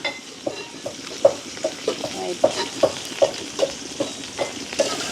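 Drumsticks fry in a pan with tamarind and garlic, a steady soft sizzle under regular scraping stirs from a spoon against the pan, close by.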